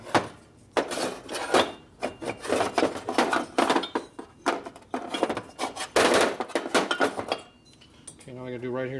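Hand deburring of a Harley Sportster 1200 cylinder head, metal tools scraping and clinking in uneven bursts close by, ending with a brief tonal whir.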